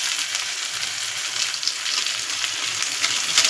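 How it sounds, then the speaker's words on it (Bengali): Onion and tomato pieces fry in oil with ginger paste and cumin powder, giving a close, dense, continuous hiss of sizzling with faint stirring scrapes and no voices. "দিয়ে এটাকে আমি মিডিয়াম আঁচে রেখে ভালো করে কষিয়ে নেব।"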